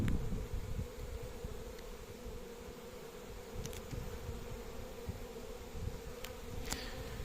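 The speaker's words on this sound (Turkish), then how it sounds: "Bir taraftan da bakın polen polen getiren arılar var." Honeybees carrying pollen buzz around a hive, a continuous soft droning hum with occasional louder passes of single bees close by, faint and without talk.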